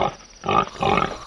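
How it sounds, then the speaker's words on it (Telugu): A man snores loudly in his sleep with a pig-like sound: two long, rasping, grunting snores, close and strong, separated by a brief pause. "వీడొకడు పడుకుంటే పంది కన్నా దారుణంగా గురక పెడతాడు."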